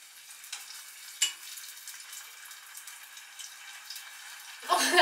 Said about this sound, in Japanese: もう本当にあとひたすら煮るだけ、本当に煮るだけ。